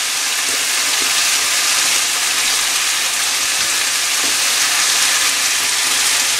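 Fish biryani mix with coriander leaves sautéing in a pan, a loud, steady sizzling hiss with faint scrapes and stirring clicks, continuous and close.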